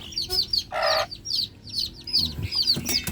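A mother hen clucks to newly hatched chicks, giving low repeated clucks while the chicks keep up high, thin peeping all around, close and lively.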